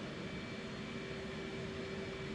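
F/A-18 auxiliary power unit shutting down in the DCS flight simulator, heard as a faint, steady turbine whine and hum with a constant pitch throughout, alone with no voices.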